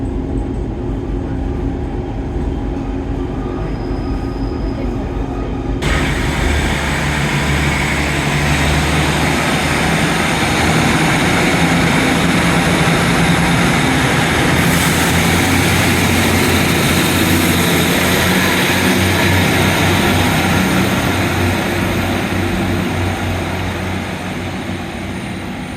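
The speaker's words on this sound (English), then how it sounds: "there goes my train on its way to Exmouth" A train pulls out of Teignmouth station toward Exmouth, a loud sustained rumble and engine drone building after a few seconds and rolling on steadily before easing toward the end, with no talk.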